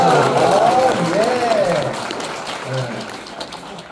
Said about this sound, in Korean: 우리 이분들을 향해서는 다 같이 뜨겁게 박수를 보내드리겠습니다